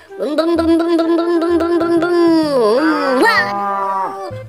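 A cow moos in a long, loud, sustained call that bends in pitch midway and swells again before fading, close to the listener.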